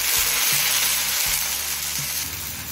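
Taro stolons (loti) frying in a hot pan, a steady close sizzle with soft stirring scrapes and bumps throughout, no voices.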